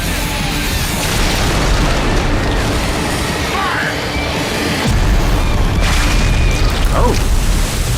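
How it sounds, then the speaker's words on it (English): A cannon in a RWBY animated battle booms amid a dense, loud wall of crashes, rumbles and effects, with impacts surging again near the end. "That's an effective cannon."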